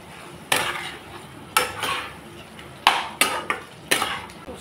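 Boiled potato pieces being stir-fried with turmeric, salt and spices in a pan for a potato curry: a spatula scrapes and clatters against the metal in several separate strokes, close and fairly quiet, with no talking.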